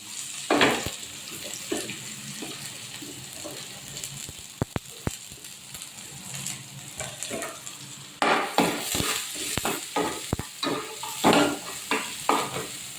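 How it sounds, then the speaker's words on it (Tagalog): Onion and garlic fry in hot oil, a soft steady sizzle with spatula scrapes and clinks against the pan, growing louder and busier toward the end as the stirring picks up. "mainit na ating mantika. Lagay na natin ang sibuyas at ang bawang."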